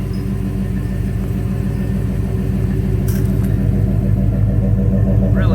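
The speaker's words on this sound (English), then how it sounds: "Got beautiful dual exhaust and sounds great." A restored 1985 Chevrolet C10 Silverado short-bed pickup with a rebuilt Vortec 350 5.7 V8 and dual exhaust idles close by, making a loud, steady, deep rumble with an even, throbbing pulse throughout.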